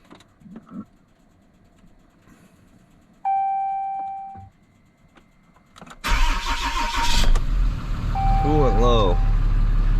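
A Ram pickup truck in cold weather cranks and fires up, its engine catching and settling into a loud, steady idle close by after a warning chime sounds inside the cab.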